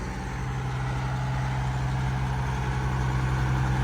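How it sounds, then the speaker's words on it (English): A payloader's heavy diesel engine idles steadily, a loud, continuous low rumble with a strong droning hum. It carries on unbroken and no one talks over it. "We're even getting the payloader fired up today."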